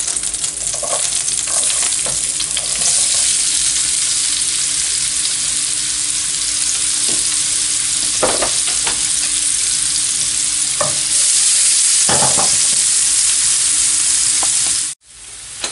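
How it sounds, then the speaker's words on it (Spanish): Chopped onion fries in a pan for rabbit shoulder in beer, a loud continuous sizzle broken by repeated scraping stirs of a utensil against the pan, with no talk. "Ahora sofreímos la cebolla."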